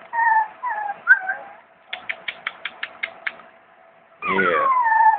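An Italian Greyhound and Chinese Crested mix puppy whimpers close by, with high wavering whines, a rapid run of short yips in the middle, and a longer falling whine at the end.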